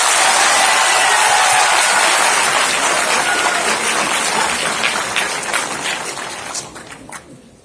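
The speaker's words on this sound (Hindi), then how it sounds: "एक बार और जोर से ताली बजाइए।" A crowd of school students at an event in Delhi claps loudly and densely, the applause gradually thinning into scattered claps before dying away.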